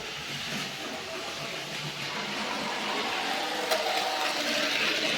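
A train rolling past outdoors, a steady hissing rumble at moderate distance that grows slightly louder toward the end, with no one speaking.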